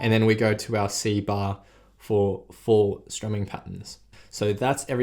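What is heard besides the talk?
No everyday noise stands out behind the speech.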